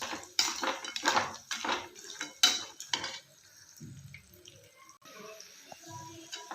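A spoon scrapes and clatters in a pan while roasted gram and peanuts are stirred for churumuri, several loud quick strokes that give way to quieter scattered clinks and soft rustling.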